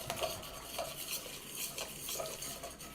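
In a pan sauce of garlic paste for pan-fried lemon basil chicken, a utensil scrapes and stirs the browned crust off the pan bottom, giving repeated soft metallic scrapes and clinks with a faint sizzle underneath.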